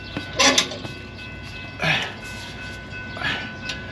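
A train rumbles past with recurring clattering bursts swelling and fading at a moderate distance.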